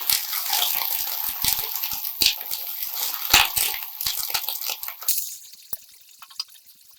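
A splash of water goes into a pan of sizzling ginger-garlic paste with green chillies, giving a close, crackling hiss with small clicks and drips that settles toward quieter spitting.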